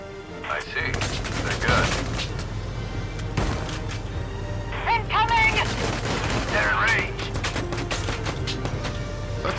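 Turret gunfire rattles through a battle in the video game Valkyria Chronicles 4, with repeated shots and booms over a steady low rumble and brief in-game voices calling out.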